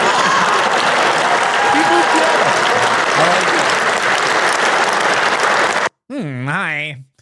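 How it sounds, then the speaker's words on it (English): A large audience at a political speech roars with sustained, loud applause and cheering for about six seconds, then cuts to a short burst of close, animated talking. "A big round of applause for the Timu version of me,"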